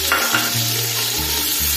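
Chopped onions hit heated oil in a pan for restaurant-style kadhi pakora, giving a steady, close sizzle and frying hiss with stirring scrapes throughout.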